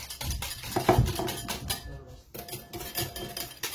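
Beaten egg whites folded into batter in a bowl, with close clinking and scraping of a utensil against the bowl in irregular strokes and a brief pause midway.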